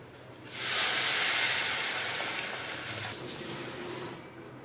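Hot water poured into masala powder for a mushroom curry-leaf fry, giving a loud, steady steaming hiss that rises suddenly, holds for about three seconds, then tapers away.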